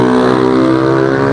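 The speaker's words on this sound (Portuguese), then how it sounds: "o barulho da moto é alto." A motorcycle engine drones loudly and steadily at close range with an even, buzzing tone, outdoors near a community military police post.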